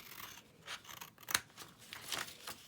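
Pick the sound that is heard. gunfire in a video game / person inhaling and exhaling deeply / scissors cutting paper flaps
scissors cutting paper flaps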